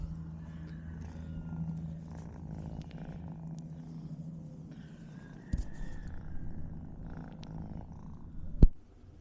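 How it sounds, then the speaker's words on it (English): A cat purring steadily while being petted, a low, close, continuous rumble with a brief knock near the end. "This is what y'all really come for, is the entertainment of petting the kitties."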